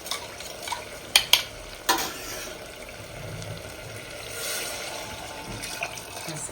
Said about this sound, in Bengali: এই জলটা একটু চামচে নাড়া দিয়ে পুরো জলটা দিয়ে দেবো